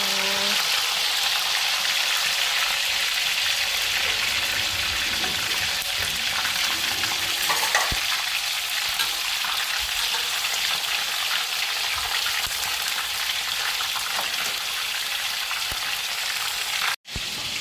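Steady, loud sizzling of chicken frying in hot oil, continuous and close, with a brief clatter near the end.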